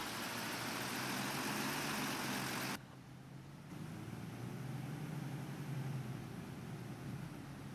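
A Volvo B9TL bus engine from the OMSI 2 bus simulator drones steadily while driving, a continuous low hum that drops briefly in tone partway through before settling back to a steady run.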